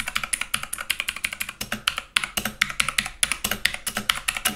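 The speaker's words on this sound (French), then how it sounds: "Comme vous pouvez le voir, c'est bleu et c'est pour ça que ça fait du bruit." Rapid, loud clacking keystrokes from an RGB gaming keyboard with blue switches, a steady run of sharp clicky taps with a brief pause midway, close up and with no voices.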